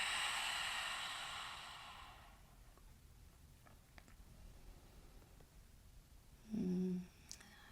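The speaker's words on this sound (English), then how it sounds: "Open up your mouth, exhale it out." A slow, breathy exhale out through an open mouth, soft and close, fades over about two seconds into near silence, followed by a brief low hum.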